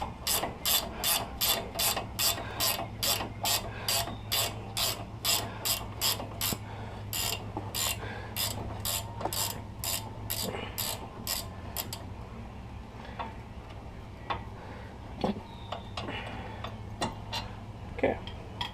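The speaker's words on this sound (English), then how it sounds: "I'm using a ratchet wrench." Rapid ratchet wrench clicking while loosening caliper bracket bolts on a 1999–2007 GM truck during front wheel bearing work, loud bursts of fast ticks for about twelve seconds, then sparse scattered clicks and clunks.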